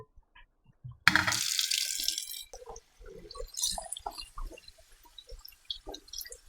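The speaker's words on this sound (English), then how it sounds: "Now we're going to rinse them and wash them one more time." Tap water gushing briefly over fresh strawberries in a kitchen sink, a loud splashing rush that stops after a second or so, followed by soft wet handling, dripping and small clinks of the fruit.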